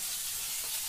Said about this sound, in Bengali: এই যে মাছ ভাজা বসিয়েছি,